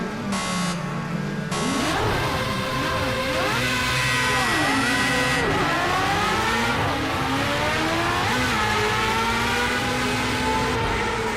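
Race car engines in Project CARS 2 whine and rev loudly and continuously, climbing and dropping through gear changes, with several cars overlapping nearby.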